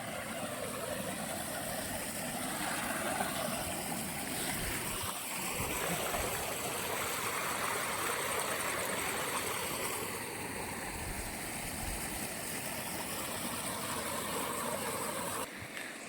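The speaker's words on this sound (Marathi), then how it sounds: "बघा छानशी ही नदी चालली इथनं" A river runs through the Satpuda hills with a continuous broad rushing flow, fairly loud and steady throughout, with a faint engine-like hum underneath and no talk.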